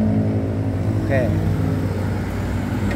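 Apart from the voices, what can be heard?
motorcycle revving with KMJ racing exhaust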